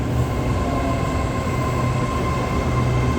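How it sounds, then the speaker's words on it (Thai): SRT Red Line diesel railcar commuter train pulling into a station, a steady loud rumble of wheels and engine with a faint tonal hum, continuous and close throughout. "อันนี้สายสีแดงมาแล้วครับ เดี๋ยวเราขึ้นรถคันนี้ไปที่วัดเสมียนารีกันเลย"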